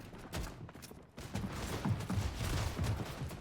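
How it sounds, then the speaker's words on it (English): Rapid video game gunfire from a double pump setup with an SMG, bursts of shots loud and close, running continuously through most of the stretch with mechanical clatter. "double pump SMG took one down"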